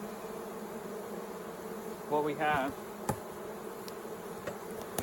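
Honey bees around a beehive keep up a steady, dense buzzing hum throughout, with a brief louder pass of a bee close by and a few words spoken over it.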